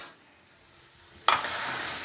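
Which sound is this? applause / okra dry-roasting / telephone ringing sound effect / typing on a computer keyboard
okra dry-roasting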